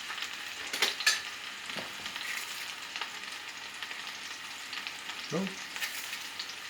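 Mushrooms fry in an iron skillet at home with a soft, steady sizzle, punctuated by a few sharp scraping stirs near the start and a thump later; a brief spoken word is heard.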